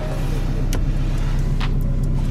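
A Toyota Camry engine idles with a steady low rumble, close and loud throughout, with a couple of brief clicks and no talking.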